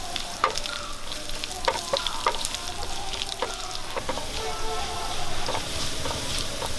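Chopped green chillies sizzle and spit steadily in hot oil in a frying pan, with soft stirring and scraping clicks from a spoon over the continuous crackle while onions cook for an egg curry.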